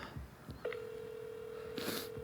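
A telephone tone sounds as a single steady electronic beep that holds for well over a second after a few soft dial clicks, fairly clear against a quiet room with a brief burst of noise near the end.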